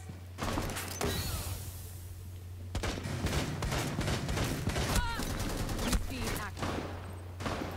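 Automatic rifle bursts and single shots crack in rapid clusters during a round of the shooter Rainbow Six Siege, loud and close, with mechanical clatter and brief voices in between.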